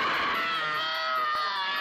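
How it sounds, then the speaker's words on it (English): An actress screams in real pain during a violent harness-pulling scene while filming The Exorcist, a sustained, high, strained cry filling the whole moment, with a brief dull knock partway through. "These screams are authentic."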